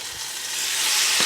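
Venison tips with bell pepper and onion sizzle steadily in a skillet, a continuous close frying hiss that grows slightly louder, with a couple of soft spatula bumps.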